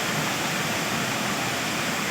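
Heavy rain starting to pour down in Semiliguda, a dense, steady broadband roar of falling water that stays loud and even throughout with no voices.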